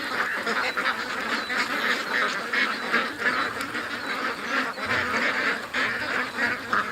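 A flock of ducks being fed for the homeless-ducks project calls continuously, their nasal quacks and honks overlapping at close range in a steady, busy chorus with no talk.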